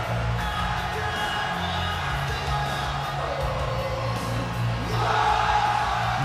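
A sold-out arena crowd in Orlando, Florida roars steadily in the WWE 2K23 wrestling game, a dense, unbroken wash of cheering and chanting with a swell near the end.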